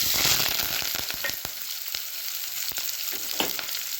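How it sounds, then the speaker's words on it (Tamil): Shallots, green chillies and curry leaves sauté in hot oil for a Tamil green-gram and greens kootu, giving a steady close sizzle broken by sharp crackles and spits, with no voices. "நல்லா கலந்து விட்டு வதக்கி விட்டுக்கலாம்"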